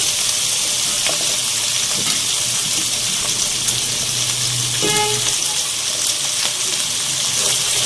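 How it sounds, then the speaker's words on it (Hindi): Okra stirred into a pan of mutton gravy with oil sizzling steadily, a continuous close frying hiss with a few soft scrapes and stirring sounds throughout. "अब भिंडियों के साथ भी हम इसको 1 से 2 मिनट तक पकाएंगे। अच्छे से हिला लेंगे"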